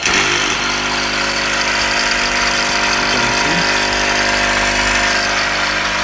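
A modified 1.5 hp electric motor runs steadily, giving a continuous, even hum with a droning mechanical tone throughout and no pause or change in level.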